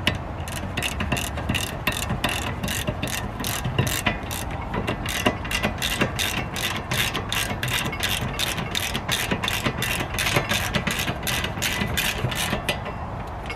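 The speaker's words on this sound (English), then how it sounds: "Now we will tighten that up, those bolts up with the 15mm." A ratchet with a 15mm socket tightens the brake caliper bolts on a 2011-2013 Buick Regal. It makes a quick, even run of close clicks that repeats steadily for over thirteen seconds with no talking.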